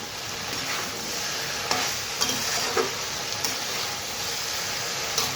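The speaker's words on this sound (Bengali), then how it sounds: "ভালোভাবে নেড়ে নিই, তারপর গুড়টা দিয়ে দেবো।" Cooked elephant apple pickle is stirred in a pan, a continuous soft sizzle with a few light scrapes and taps of the spoon, heard close and alone.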